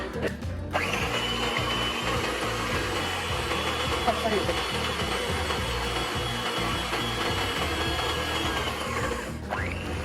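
An electric beater whirs steadily in a bowl of medium-sized eggs with vanilla essence, a continuous motor drone with a rattling churn that starts abruptly and cuts off near the end.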